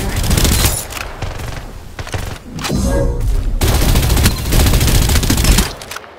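Rapid automatic gunfire in the video game Farlight 84, loud close bursts of shots with a brief lull in the middle, and game voice lines over parts of it.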